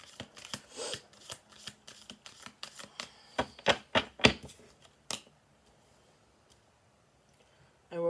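Crisp riffling snaps of a card deck being shuffled, several quick bursts close to the mic, then near silence before one more rustle.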